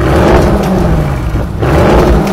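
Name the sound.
V8 sports car carbon exhaust revving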